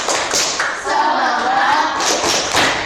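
A primary school class in Indonesia does a rhythmic spirit clap during a project presentation, loud patterned bursts of hand claps and thumps from a group close by, with a short pause partway through.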